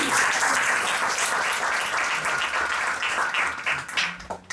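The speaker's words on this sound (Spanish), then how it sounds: "Un aplauso al que vive." Church congregation applauding during an anniversary service, a dense, steady wash of many hands clapping at close range that thins and breaks up toward the end.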